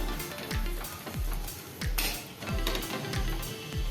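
A methi moong dal paratha roasts in oil on a hot pan with a steady sizzle, while a spatula scrapes and taps the pan in a regular rhythm, close and fairly loud.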